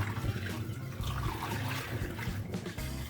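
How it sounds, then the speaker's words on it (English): Sanitizing solution poured through a funnel into a one-gallon glass carboy for home-brewing a brown ale, a steady gurgling trickle of liquid running continuously at close range with no voices. "Pouring in the sanitizing solution"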